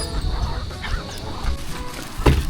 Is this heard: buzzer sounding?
no